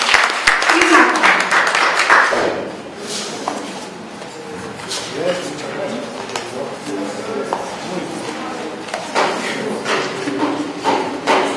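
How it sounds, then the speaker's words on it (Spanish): An audience at a recognition ceremony for violence prevention facilitators applauds, with scattered clapping under and between people talking, swelling loudest at the start and again near the end. "Un aplauso para Isma."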